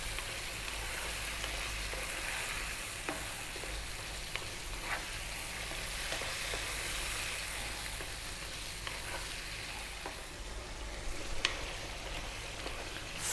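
Crushed plum tomatoes sizzle and bubble steadily in a pan for a creamy garlic vegetable pasta bake, with occasional soft stirring scrapes and pops over a continuous frying hiss, no voices.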